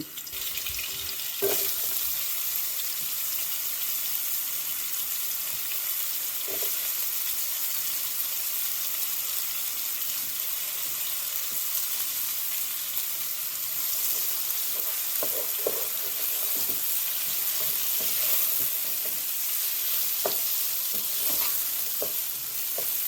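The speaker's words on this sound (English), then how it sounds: "You're going to add some garlic and onions to this pan and let it saute." Garlic and onions sauté in a pan for a lamb stew, giving a constant close sizzle with occasional stirring scrapes and light clicks, no voices present.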